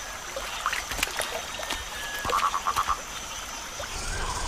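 A purple pig-nosed frog calling in the Western Ghats of India, a short series of faint, evenly spaced croaks over a steady wash of trickling water and night ambience.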